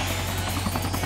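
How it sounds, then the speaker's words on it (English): Helicopter in the video game Sonic Generations, a steady droning rotor hum with a low buzzing pulse, loud and continuous with no voices over it. "Seems like Sonic could really monopolize this whole riding free on a helicopter thing"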